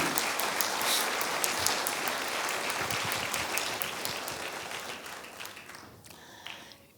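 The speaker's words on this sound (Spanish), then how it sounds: "aplauda fuerte al Señor" A church congregation applauds during a sermon, a sustained wash of many clapping hands that holds steady for several seconds, then thins and fades, with a faint voice at the close.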